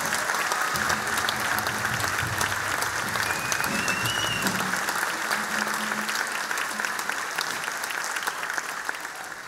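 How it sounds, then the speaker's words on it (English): A school concert audience in a hall gives a long, even round of applause for a high school band, the clapping steady and dense throughout, with faint voices and a brief tone underneath. "A round of applause for all the seniors, scholarship recipient winners."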